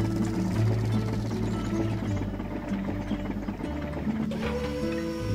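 Hydraulic bridge parts moving in the puzzle game Poly Bridge, a steady mechanical whirring and clicking hum over a low drone that shifts pitch partway through.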